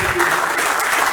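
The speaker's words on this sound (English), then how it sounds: "Round of applause for the first" Applause from the gathered audience at the AfCFTA Secretariat handover ceremony fills a brief moment. The clapping is dense and fairly loud, heard only in a short fragment, with faint voices beneath.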